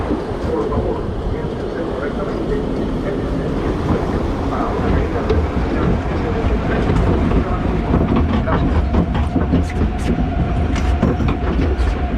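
A log flume boat on the Stanley Falls ride climbs the lift hill with a continuous loud rattling, clattering chain drive up close, along with faint rhythmic clicks and rushing water throughout.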